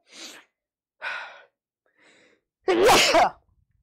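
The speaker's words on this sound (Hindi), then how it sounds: "अच्छा हुआ छींक आ गई, नहीं तो छींक ना रुक जाती है मेरी बहुत बार" A single loud, close sneeze preceded by a few sharp indrawn breaths, the burst at the end much louder than the gasps before it.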